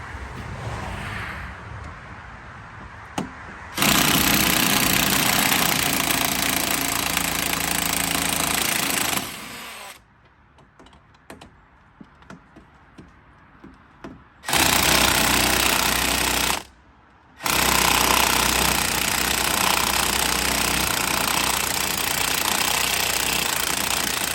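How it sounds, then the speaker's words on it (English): Impact wrench or power tool zipping out front strut bolts with an 18 mm socket on a 2010 BMW 535i, loud sustained rattling bursts separated by quieter gaps of clicking and handling noise, no talk. "These are the bolts that I'm removing here. Socket is 18."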